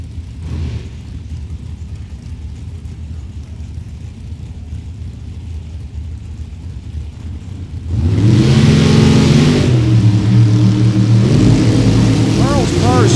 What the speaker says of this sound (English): Carl's car's smoking a little bit as it continues on down track.